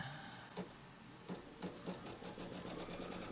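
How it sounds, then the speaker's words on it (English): Embroidery sewing machine stitching down a quilt block in a hoop, a steady fast mechanical whir with rhythmic needle clatter and a few louder knocks, close and continuous. "let's stitch this one down"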